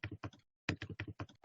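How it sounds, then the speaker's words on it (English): Close, quiet keyboard typing in short bursts of distinct key taps, with a brief pause between two quick clusters and no talk. "But I started typing John Stamos"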